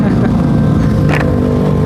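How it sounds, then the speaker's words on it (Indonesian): A loud aftermarket racing exhaust on a motorcycle in a narrow, congested street, running as a steady, close, heavy engine drone throughout with a brief rise partway. "Aduh, distracting banget ya knalpotnya ya."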